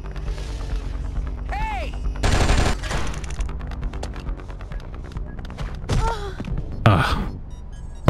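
Gunfire from the Oni video game, with bursts of shots mixed into game music and effects, while a voice briefly shouts and reacts over the action.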